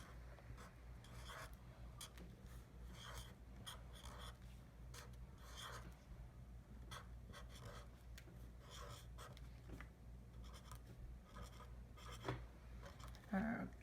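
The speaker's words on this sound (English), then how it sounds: "I'm gonna write it in marker so it's easy to read." Marker pen scratching across paper card while a pop-up Father's Day card is being made, a steady soft rasping of strokes over a continuous low background hum, with occasional speech nearby.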